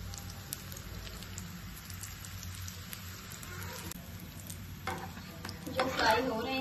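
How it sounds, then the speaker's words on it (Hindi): Chicken rolls frying in oil over low heat, a steady close sizzle with stirring and turning noises that swell louder near the end. "जो फ्राई हो रहे हैं उनको मैं साइड चेंज करती रहूंगी।"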